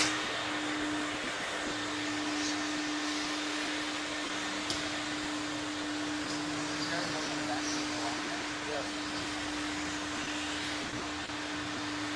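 A vacuum pump runs with a steady, droning mechanical hum and a constant tone during hands-on equipment training, continuous for the whole stretch while people talk over it now and then.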